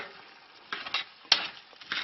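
Risotto with added broth stirred in a pan, heard as a few soft scraping and sloshing strokes with a brief louder clack, fairly close and quiet, with no voices.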